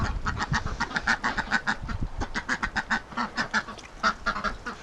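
A flock of Muscovy and Pekin breeding ducks quacks in quick repeated bursts, a busy chorus of calls fairly close and steady with no one talking.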